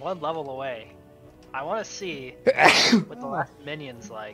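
A single sharp, loud sneeze bursts out midway through a co-op gaming session, breaking into a player's steady talking before the speech resumes.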